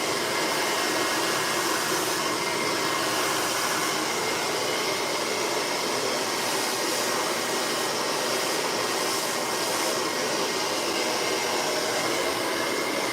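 Close by, a hair dryer blow-dries hair, giving a loud, continuous rushing roar with a steady airflow hiss and faint shifts as the nozzle moves. There is no speech.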